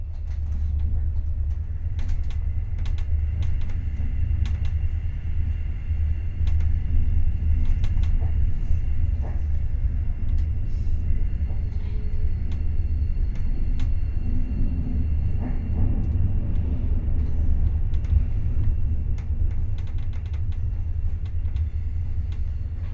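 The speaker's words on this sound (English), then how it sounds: "our train starts to head away from the capital towards the countryside" A DSB Litra ME diesel locomotive hauling a regional train away from Copenhagen toward the countryside, a steady deep engine rumble heard from on board, with occasional faint clicks and rattles.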